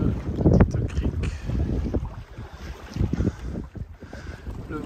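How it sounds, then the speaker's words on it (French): On a sailboat cruising the Greek islands, freshening wind buffets the microphone in low, rumbling gusts. Intermittent rushes and knocks rise and fall, with a faint hiss of moving air and water behind them. "Le vent est monté un peu."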